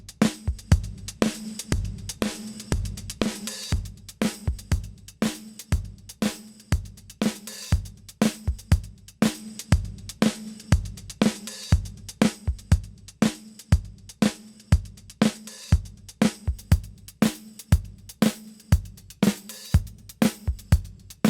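Drums run through a Vulf Compressor plugin play a steady, driving groove of dense kick and snare hits with a heavily squashed, pumping, lo-fi vintage character, continuous and loud with no voice.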